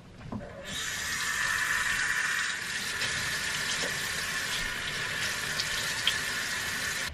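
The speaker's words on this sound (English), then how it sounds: "And then just rinse it off." Tap water runs steadily from a faucet into a sink while a face is rinsed, a continuous close hiss with small splashy variations and no talking.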